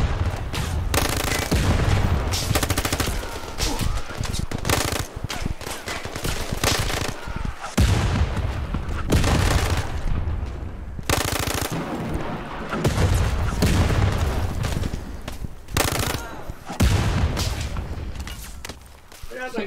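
Gunfire in the VR shooter Zero Caliber: repeated loud bursts of rifle and machine-gun fire with sharp booms, dense and irregular throughout, with a person's voice talking between shots.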